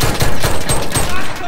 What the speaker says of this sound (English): They had a machine gun, though.